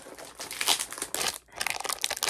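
Plastic packaging from Daiso purchases crinkles and rustles close up in quick, uneven bursts, with a short pause near the middle before the handling picks up again.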